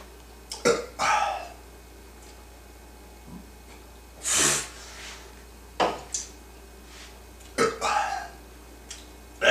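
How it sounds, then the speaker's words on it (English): Loud, close burps in a burping contest come in a series of separate bursts, some short and some drawn out, with quiet gaps between them and a faint hum behind. "Doesn't come out like normal humans, my burps."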